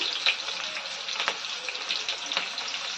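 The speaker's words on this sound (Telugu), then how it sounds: "చిటపటలాడిన తర్వాత ఉల్లిపాయలు వేసుకోవాలి." Onions fry in spluttering hot oil for a brinjal masala curry, a steady bright crackle with scattered pops and hissing bursts, close by and continuous, with no voices.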